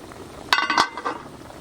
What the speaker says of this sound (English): Then we got our oxtail over here bubbling up.